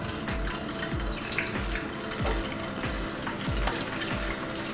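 Turmeric-coated cut eggs frying in hot oil, a dense continuous crackling sizzle with regular soft low thumps, close and steady with no voices.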